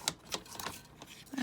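Paper for a junk journal tag is cut with a few quiet, crisp snips close by, each brief and separated by short pauses, faint against a quiet room.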